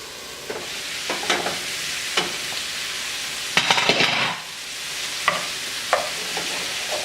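Creamy pork and vegetables being stirred in a pot on the stove, with a steady sizzle underneath and scattered scraping and clinking strokes of the spoon against the pot.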